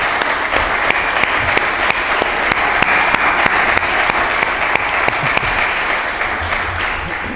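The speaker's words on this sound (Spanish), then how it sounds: "yo quiero darle un aplauso a David porque lo hemos machacado aquí" An audience applauds steadily at a breakfast briefing and conference in Castelló, with dense, loud clapping that carries on without a break from start to finish.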